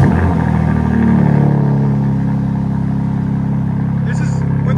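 Twin-turbo 3.0-litre inline-six of a 2023 BMW M4 Competition with the X-pipe deleted and exhaust valves open, a loud close rumble that surges in a rev and then settles to a steady idle drone.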